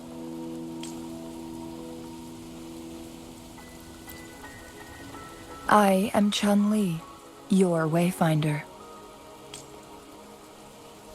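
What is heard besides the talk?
rain falling, from the video game Wuthering Waves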